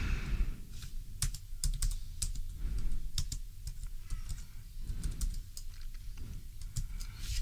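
Rapid clicking of computer keyboard keys while entering a formula in an Excel spreadsheet, irregular bursts of keystrokes close to the microphone over a low background hum, with no talking.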